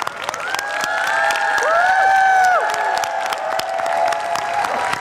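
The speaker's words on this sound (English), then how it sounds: "Clap again. Get our hands together." A large festival crowd at a world culture celebration claps and cheers loudly and steadily, with whoops and high shouts rising over dense applause throughout.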